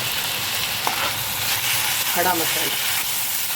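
Onion, tomato, grated coconut and garam masala sautéing in a pan over low heat, a steady close sizzle and hiss with a few stirring sounds, while someone speaks briefly over it.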